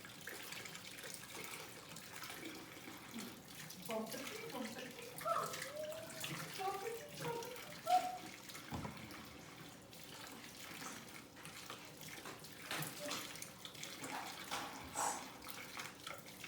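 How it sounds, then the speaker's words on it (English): Egg-crusted dish washed under a running kitchen tap, a steady stream of water splashing and gurgling at close range, with faint voice sounds mixed in. "At least wash all the egg off of it."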